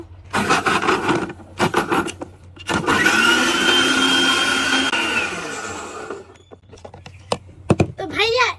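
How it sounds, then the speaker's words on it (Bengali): A blender whirs loudly for a few seconds in the middle while blending fruit juice with a glass of water, bracketed by clattering and handling noises before and after. "তো এবার আমি ভালোভাবে ব্লেন্ডার করে নেবো"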